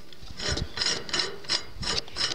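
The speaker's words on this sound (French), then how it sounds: "il y a un embout qui se visse ici" A nozzle screwed by hand onto a Piteba oil press, giving a run of short scraping, ratcheting twists at a steady rhythm, close and fairly loud with no talking.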